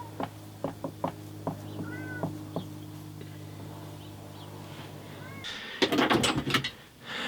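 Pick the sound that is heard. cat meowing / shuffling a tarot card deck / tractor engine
cat meowing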